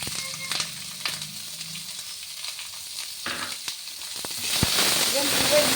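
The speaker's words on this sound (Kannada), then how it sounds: "ಈಗ ಈರುಳ್ಳಿ ಹಾಕ್ತಾ ಇದ್ದೀನಿ." Onions frying in a pan for curd rice tempering, a soft hiss and sizzle that swells louder near the end, with light stirring clicks and some quiet background sound.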